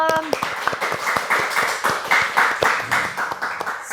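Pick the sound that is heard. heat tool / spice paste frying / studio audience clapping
studio audience clapping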